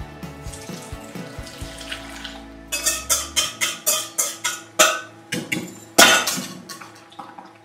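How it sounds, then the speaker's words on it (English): Lemon curd mixture is strained through a sieve into a bowl: soft clinks and scrapes at first, then a run of rhythmic wet tapping and scraping strokes, close and fairly quiet, with no talk. "I'm going to strain this mixture into that bowl."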